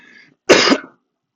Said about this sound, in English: I am coughing all the time.